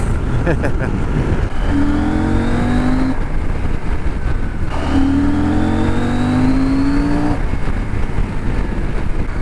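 A CF Moto 800MT touring motorcycle engine revs up through the gears twice, its pitch climbing steadily, with steady road and wind noise throughout.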